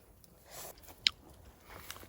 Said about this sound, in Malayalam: പൊട്ടിക്കണ്ട നീ കടിച്ചോ അത്.